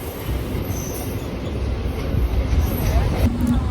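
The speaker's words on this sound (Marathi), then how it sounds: "आता लगेचच ट्रेन सुटली आहे इथून." MEMU commuter train pulling out of Saphale station, a loud close rumble of wheels on rails building steadily, with a thin high wheel squeal above it and voices underneath.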